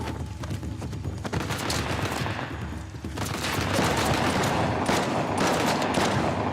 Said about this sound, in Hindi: बहुत गलत जगह पे बैठा हुआ मैं, चारों तरफ से गोलियां पड़ रही हैं।